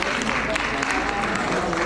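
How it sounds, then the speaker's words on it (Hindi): A seated audience at an awards ceremony for writers in Chhindwara claps briefly for an honoree, loud and dense, with a voice speaking over the applause. "एक बार तालियों के साथ अभिनंदन।"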